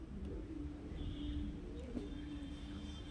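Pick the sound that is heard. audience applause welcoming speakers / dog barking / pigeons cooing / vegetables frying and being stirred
pigeons cooing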